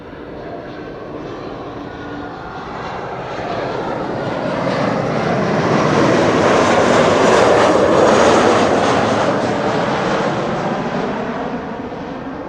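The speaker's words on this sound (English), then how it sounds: "our next airplane is approaching. And it is a KLM Embraer 190, arrival from Berlin, flight" A KLM Embraer 190 arriving at Amsterdam Schiphol from Berlin passes overhead, its jet engine noise building steadily from a moderate rumble to a loud peak, then slowly fading, heard alone without voices.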